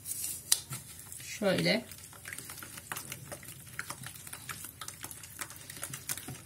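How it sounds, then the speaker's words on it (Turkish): A spoon stirs cookie dough ingredients, freshly dosed with baking powder, in a bowl for salty cookies: faint, irregular scraping and soft clicks at close range, with one brief spoken word partway through. "Bunları biraz karıştıralım."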